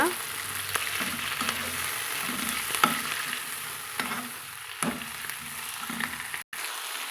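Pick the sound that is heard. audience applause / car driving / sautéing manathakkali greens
sautéing manathakkali greens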